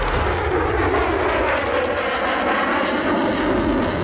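A fighter jet flies past at high subsonic speed at an air show, a loud, continuous roaring blast of engine noise close by for the whole stretch.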